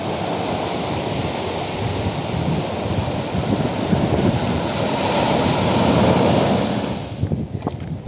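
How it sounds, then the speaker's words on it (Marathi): Ocean waves wash steadily against the seashore in a continuous broad roar, with wind buffeting the microphone and the surf swelling slightly toward the end. "तर आत्ता मी समुद्रावर आलो होतो जरा रिलॅक्स व्हायला"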